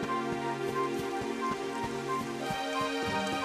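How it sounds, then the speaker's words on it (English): Steady rainfall in the fantasy RPG Dragon Quest XI, a dense, continuous patter of drops over a looping game music bed, with no talk. "It would have to go and start raining, wouldn't it?"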